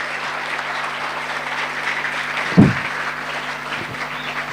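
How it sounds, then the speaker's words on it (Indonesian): Applause from an audience at a pesantren gathering in Madura, a steady wash of clapping at moderate level with a brief louder thump partway through. "Tepuk tangan untuk Bata-Bata"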